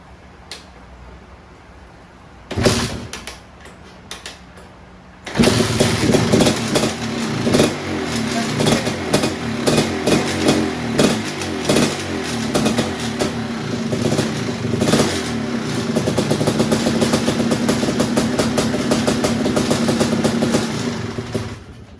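A Suzuki LT500 Quadzilla quad gets a sharp kick, then its engine fires up and settles into a loud, close, uneven idle with constant rattling and clattering, with a rattle coming from the clutch area.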